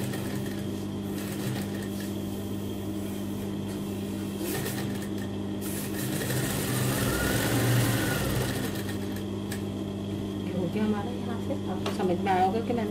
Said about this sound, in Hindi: उसके बाद इसके ऊपर आप मशीन चला सकते हैं।